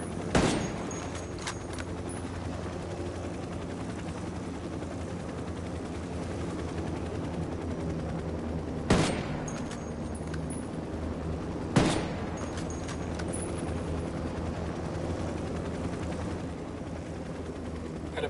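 Gunfire and an Apache attack helicopter in the video game Ghost Recon: a steady rotor-like roar with sharp shots, two loud bursts standing out midway, heard without speech.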